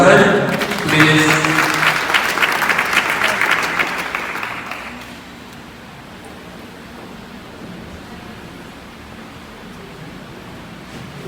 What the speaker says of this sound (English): Please put your hands together for her one more time.